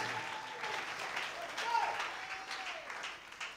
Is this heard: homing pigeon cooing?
no